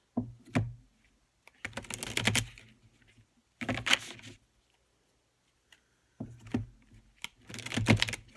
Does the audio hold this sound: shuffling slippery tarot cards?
yes